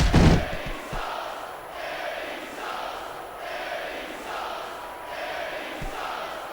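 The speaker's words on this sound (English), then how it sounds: "I can't remember the last time I seen a crowd so pumped up" Roaring wrestling arena crowd in SmackDown Vs. Raw 2006, a steady wash of cheering and chanting with a few thuds near the start, loud and continuous throughout.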